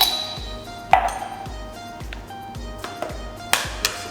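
A metal spoon clinks against a sterilized glass jar while coarse salt goes in for a Portuguese red bell pepper paste: a few sharp, ringing taps spaced out over a soft background, with one brighter clink near the start and another near the end.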